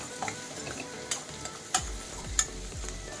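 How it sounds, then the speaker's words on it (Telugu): Sliced onions fry in oil in a pan for a vegetable pulao, a steady sizzle broken by several sharp scraping stirs of a spatula against the pan, with no talking. "ఇప్పుడు ఉల్లిపాయలు బాగా వేగిపోయినాయి కదండి."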